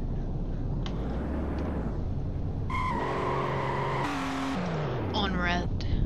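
Cars drag racing in GTA V roar through rising engine tones and shifting gears, with tires squealing near the end, while voices chatter underneath.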